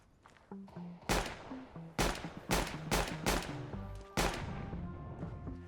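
Gunfire in CS:GO Danger Zone: around six loud, sharp shots spaced roughly a second apart, each with a short ringing tail, over soft in-game footsteps and tonal effects.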